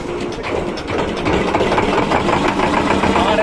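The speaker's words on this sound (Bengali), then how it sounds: "এখন স্টার্ট দিচ্ছি বন্ধুরা" A fishing boat's motor runs close by on the water in the Sundarbans, a steady knocking, chugging rumble that holds level throughout.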